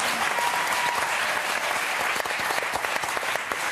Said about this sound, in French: Allez applaudir Ben et Arnaud